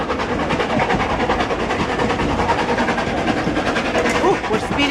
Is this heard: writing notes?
no